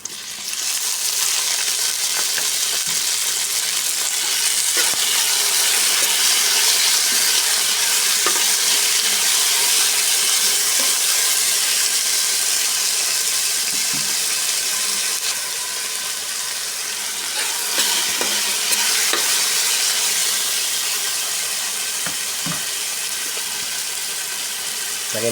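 Sliced tomatoes hit a hot pan of sautéing ampalaya (bitter gourd), raising a steady, loud sizzle with stirring scrapes throughout; no voices.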